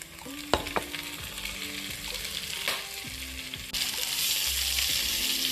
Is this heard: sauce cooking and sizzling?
yes